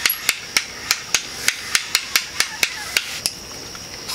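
Ratcheting clicks from a crossbow crank being turned on a Barnett Recruit, a steady run of sharp metallic ticks about every quarter second, close and crisp with no voices.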